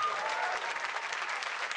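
A crowd applauds at a Hearthstone esports championship, the 2017 HCT Summer Championship, with dense, sustained clapping from many hands filling the hall, steady and fairly loud throughout.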